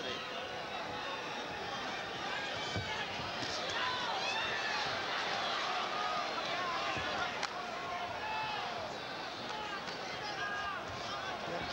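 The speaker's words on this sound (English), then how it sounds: "Crowd again vocalizing their displeasure at the inactivity" Boxing arena crowd at a Michael Carbajal vs Humberto Gonzalez fight voicing displeasure, a steady loud roar of murmuring, whistles and jeers that runs throughout with no break.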